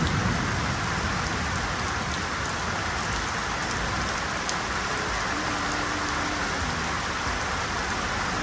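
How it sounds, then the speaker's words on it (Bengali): Steady rain pours down outdoors, a dense, even hiss of drops on surfaces that holds unbroken throughout with no voices. "আমি এখন বৃষ্টিতে ভিজছি"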